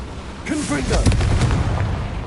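Fiery Confringo blast spell cast in the Hogwarts Legacy video game, a booming burst with crackling tail that rises loud and sustains over the short span, mixed with character voices speaking.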